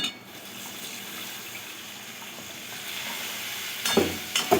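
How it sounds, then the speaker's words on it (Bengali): Spice masala for a rooster chicken curry sizzles steadily in a pan, then water is poured in, with a louder hissing burst near the end and a stir, all close by. "এবারে দিয়ে দেব জল। দেখুন দিয়ে দেব জল।"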